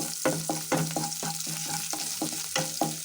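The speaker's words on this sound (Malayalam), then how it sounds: "ഇനി നമുക്കിത് നല്ലവണ്ണം ഇളക്കി കൊടുക്കാം" Sliced garlic and ginger being stirred in a hot pan for a prawn roast, a constant sizzle with rhythmic scraping strokes of a spoon, roughly two strokes per second, close and clear.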